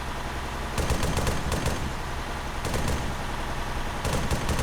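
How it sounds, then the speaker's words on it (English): Rapid automatic gunfire rattles in the video game ArmA 3, in three bursts of quick repeated shots over a constant loud rumble of background noise, with no voices. "Dude, Nick is nailing those shots"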